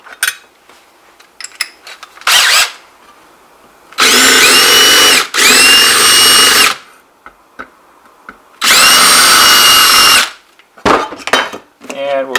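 Bursts of a power drill whine loudly as it drills out rivets on a transformer being rebuilt, about two long runs with short blips between them and brief pauses.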